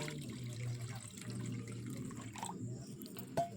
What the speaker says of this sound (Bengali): এখন পরিমাণ মতন জল দিয়ে দেব